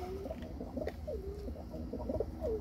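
A pet pigeon coos in a home loft, soft repeated low coos in a gentle rhythm, close by and fairly quiet over a low background hum.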